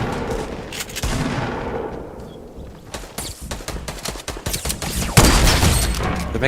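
Gunfire in the video game Fortnite, bursts of rapid shots and a sustained fusillade around a house, loud and close with scattered single cracks.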